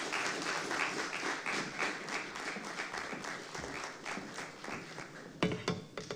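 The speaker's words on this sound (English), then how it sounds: "Ladies and gentlemen, a bigger round of applause for her." An audience at a journalists' anniversary symposium applauds after a speech, sustained crowd clapping heard from a distance at moderate level, with a few closer, louder claps toward the end.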